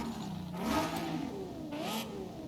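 A Lexus race car in Forza Horizon 5, rated around 660 horsepower, revs hard in the game, its engine note rising and falling through two surges over a few seconds. It sounds loud and close, with no talk.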